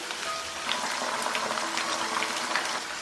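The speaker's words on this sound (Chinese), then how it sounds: "我们用中大火来炸，用筷子轻轻搬动一下，防止它粘连" Food deep-frying in hot oil over medium-high heat, a steady dense bubbling crackle that holds at an even level throughout, close and unbroken, with no voices.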